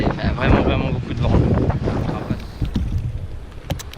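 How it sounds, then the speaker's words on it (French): Strong outdoor wind buffets the microphone beside water where kayaks are launched, a loud, gusty rumble that swells and eases over the whole stretch. "il fait vraiment beaucoup de vent"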